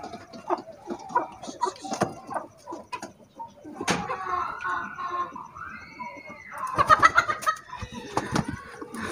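Chickens cluck nearby in short, irregular bursts inside a pigeon coop, with a flurry of louder squawks toward the end.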